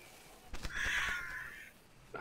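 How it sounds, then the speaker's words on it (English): Crows caw in a short, harsh burst near the middle, fairly faint and somewhat distant, with no talking. "Oh, them crows."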